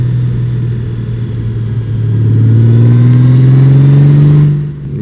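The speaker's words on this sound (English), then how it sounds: "engine making all of that ruckus, 170 Newton meters to get me up this hill" A Honda Goldwing touring motorcycle engine roars loudly and steadily, pitch rising as it pulls uphill under load, then easing off near the end.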